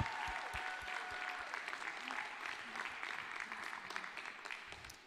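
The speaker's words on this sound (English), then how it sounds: "Let's give a big round of applause for Andrew" Applause from the audience at a Dartmouth competition event for the second runner-up, sustained clapping with some low thumps and scattered cheers, tapering slightly toward the end.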